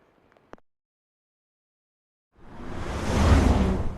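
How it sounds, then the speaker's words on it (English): Rain falling in San Diego County: after near silence and a faint tick, a dense broadband hiss swells in abruptly and holds loud and steady to the end. "I just like the rain, it's just nice."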